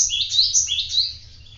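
Caged songbirds, including a canary, chirp in quick bright trills close to the microphone, a brief run of high tweets over a faint low background hum.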